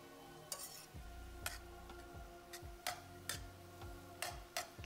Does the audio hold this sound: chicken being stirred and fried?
yes